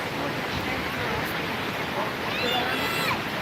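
Waterfall in Provo Canyon, a steady, loud rushing roar of falling water filling the whole stretch, with faint voices in the background.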